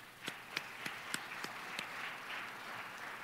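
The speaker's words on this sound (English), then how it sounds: "So everyone give yourself a round of applause this morning for being here." Faint applause from a naval academy leadership conference audience, heard from a distance with a few sharper claps in a loose rhythm over a soft, steady wash of clapping.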